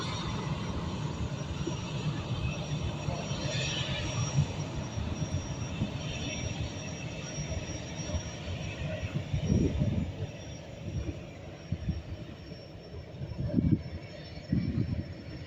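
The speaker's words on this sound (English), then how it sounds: "that 737 MAX making its way up that runway now to go up over those mountains and begin its journey back to Dublin" Boeing 737 MAX on its takeoff roll at Lanzarote Airport, bound for Dublin, a steady distant jet engine roar with low rumbling swells, heard from afar across the airfield.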